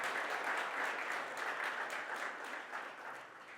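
An audience at a television channel's anniversary celebration breaks into sustained applause, a dense wash of many hands clapping that slowly softens toward the end, heard from a moderate distance with no one speaking.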